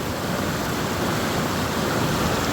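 Rushing cold river water heard while crossing Chilas on a Yamaha YBR 125 motorcycle trip, a loud, steady, broadband roar of fast-flowing water with no let-up and no voices.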